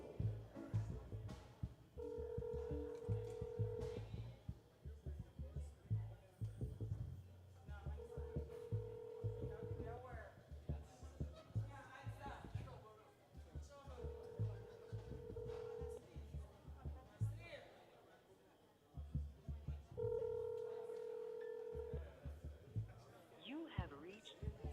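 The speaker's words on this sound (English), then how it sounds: "All right, we reached a voicemail of Delroy." A telephone call is placed at a reunion dinner and fundraiser, with repeated steady ringback tones in a regular cycle of four rings over a low hum and crowd murmur, voices talking faintly underneath.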